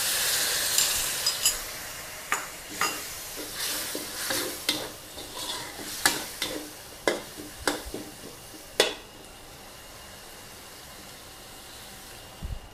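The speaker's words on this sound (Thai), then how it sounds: "เราก็ใส่หมูสับค่ะลงไป คั่วค่ะ" Minced pork stir-fried with sauce for a Thai basil and century egg dish: a spatula scrapes the pan in a string of sharp, close strokes over a continuous hiss, then stops, leaving only a quieter sizzle.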